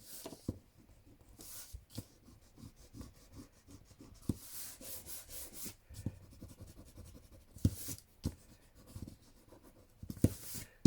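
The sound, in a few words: rubbing out marks with an eraser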